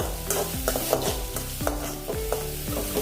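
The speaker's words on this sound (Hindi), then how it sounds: "सिर्फ पत्तियाँ डाली है हरे प्याज की। थोड़ी देर इसको भूनेंगे।" Green onion leaves sizzle in a hot pan as a spatula stirs them, a steady close frying hiss broken by regular scraping strokes about twice a second, with no talking.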